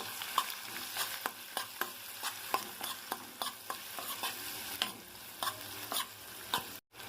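Onions with turmeric powder being stirred in hot oil in a pan, a steady quiet sizzle broken by regular scraping strokes of the spoon, close and alone with no voices.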